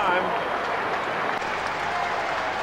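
Football crowd at the SCG applauding and cheering at quarter time of a 1999 Kangaroos versus St Kilda match, a steady, dense wash of clapping and crowd noise that holds loud and unbroken throughout.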